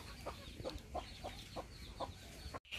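Village chickens kept at a home cluck in an even rhythm of about eight short, close calls, with no talk.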